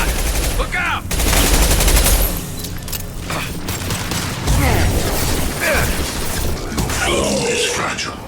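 Gunfire in Mass Effect 2 comes in heavy bursts of shots and impacts with shattering debris and mechanical clanks, loud and dense across the whole stretch, with voices speaking in between.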